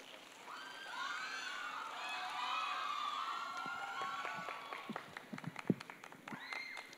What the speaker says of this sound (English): Can we please give a round of applause for the second negative speaker?